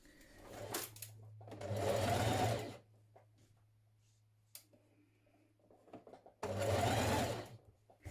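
A home sewing machine stitches a bodice seam with a 1.5 cm allowance in two steady whirring bursts separated by quiet pauses, with a low hum underneath.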